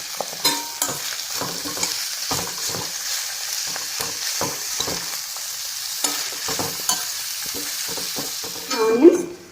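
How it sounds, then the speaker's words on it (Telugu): Onions with minced garlic stirred and frying in a pan, a continuous close sizzle broken by regular spatula scrapes and taps across the pan, with no talk. "బాగా కలుపుకొని మంచిగా ట్రాన్స్లూజెంట్ అయ్యే వరకు కుక్ చేసుకుందామండి."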